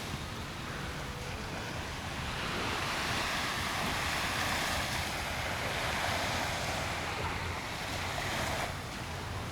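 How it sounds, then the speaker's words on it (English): Ocean waves wash steadily along the Singapore coast at night in humid heat, a continuous broad roar of surf with wind noise on the microphone, no voices. "That's the ocean."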